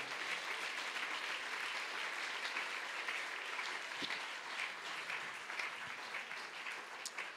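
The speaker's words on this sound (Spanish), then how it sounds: "Dele un aplauso al Señor esta mañana." A church congregation clapping together during a Spanish-language service in a steady, sustained round of applause that continues throughout without pause.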